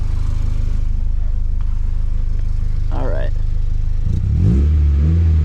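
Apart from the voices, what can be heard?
Nissan 240SX with ISR single exit GT catback exhaust revving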